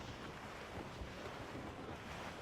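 Wind and sea waves in a rough squall while sailing in Assassin's Creed Rogue, a steady, loud, unbroken roar of rushing air and surf with no talk.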